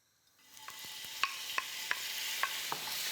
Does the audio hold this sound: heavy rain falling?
no